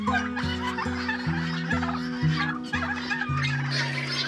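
Turkeys on a Nepalese integrated farm gobble loudly and repeatedly, overlapping rattling calls from several birds close by with farmyard noise beneath.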